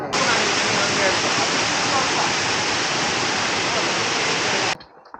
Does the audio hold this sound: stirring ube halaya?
no